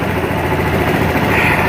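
Engine idling steadily and loudly at close range with a constant mechanical hum, while ether starting fluid is sprayed around it.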